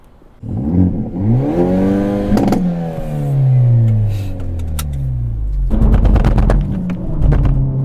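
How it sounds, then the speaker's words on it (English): A 2023 Hyundai Elantra N accelerates hard with wheel hop, its engine note rising steadily through a long sweep, then dropping with a shift before revving again, loud and close with rapid shuddering clatter near the end. "A lot of wheel hop there."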